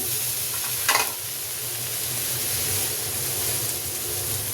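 Cauliflower and carrot sizzle steadily in a hot pan for noodles, with a constant close frying hiss and one brief clatter of stirring, and no voices.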